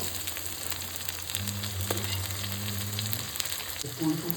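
A native tomato goes into oil with well-fried garlic paste, making a continuous close sizzle, with a faint low hum underneath and a short burst of stirring near the end.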